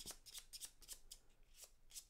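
Playing cards for the Too Many Bones board game are shuffled by hand, a run of quick crisp riffling bursts in steady rhythm, close and fairly quiet with no talk.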